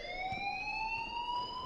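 A school alarm rings continuously in the Life is Strange video game, a steady loud electronic tone holding for the whole moment with no talking over it.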